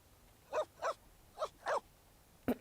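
A dog in The Sims 4 video game gives five short, clear barks in an uneven rhythm, with the last one sharper and quicker. The room around it is otherwise quiet.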